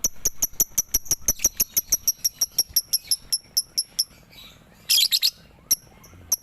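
Lovebird chirping in a rapid, steady series of sharp, bright calls that slow and thin out, followed by a brief burst of harsher chatter and one last chirp, close and clear.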